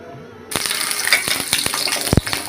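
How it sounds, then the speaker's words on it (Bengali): Large pieces of cut potato hit hot oil in a kadai, setting off a sudden loud sizzle that keeps crackling and popping steadily up close. "আলুগুলো আমরা ভেজে নেব।"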